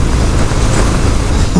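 Steady, loud rumble of a 2018 Harley-Davidson Fat Bob Softail motorcycle being ridden, its engine drone blended with heavy wind buffeting the microphone throughout, no pause or change in level.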